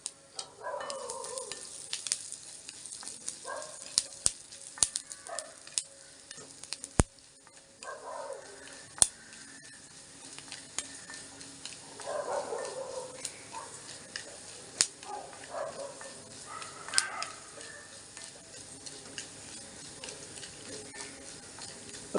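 Chana dal and urad dal roast in a teaspoon of oil in a pan. A faint, quiet sizzle runs under occasional light stirring clicks and scrapes.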